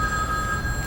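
A telephone rings with a thin, steady electronic tone, heard alone and at moderate level.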